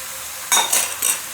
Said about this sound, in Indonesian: serta aduk kembali hingga semua topping bakmi tercampur dengan merata.